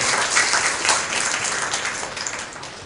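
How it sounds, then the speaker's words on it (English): Applause from an audience at a Bagh Diwas tiger-day celebration, a dense, steady wash of many hands clapping that carries through the whole stretch without speech. "they deserve a rich applause from all of you who are present over here"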